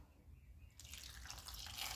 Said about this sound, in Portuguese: Aí você vai preencher com água